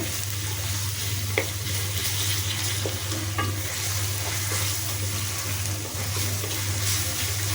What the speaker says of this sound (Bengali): একটু পেঁয়াজ বাটা দিয়ে দিচ্ছি, একটু জিরা বাটা, একটু আদা রসুন বাটা ভেজে নিব